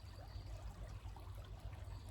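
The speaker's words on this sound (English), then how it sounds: "as you focus maybe on the sound of the gurgling water" Water of a small stream gurgles and trickles without pause, a gentle, even flow with a soft low undertone and no voices over it.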